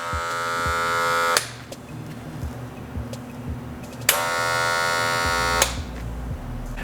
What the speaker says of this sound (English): to turn this clipper on, you want to push a lever up